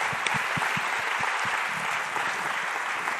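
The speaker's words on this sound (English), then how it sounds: "Let's give her a round of applause." Audience applause at a gun safety forum, a steady, full wash of clapping with a few distinct nearby claps standing out.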